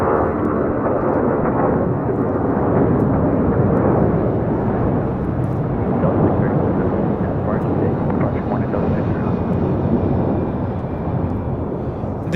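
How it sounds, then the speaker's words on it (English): A Delta Air Lines Boeing 757-200 takes off from Los Angeles airport bound for Mexico City, its loud, sustained engine roar rumbling steadily for over ten seconds before easing slightly at the end. "This is Delta Airlines 631 taking off to La Ciudad de Mexico, 757-200"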